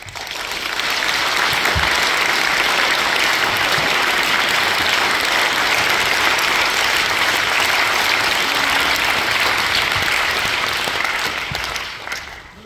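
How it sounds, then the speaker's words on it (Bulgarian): A theatre audience at an award ceremony breaks into loud, sustained applause that fills a hall for about twelve seconds before tapering off at the end. "Препращам тези аплодисменти към големите актьори, които са творили на тази сцена."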